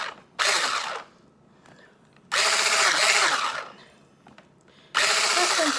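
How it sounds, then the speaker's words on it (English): Electric whisk mixing icing sugar and butter in a bowl, three loud close bursts of whirring separated by quieter pauses. "I'm just whisking it together"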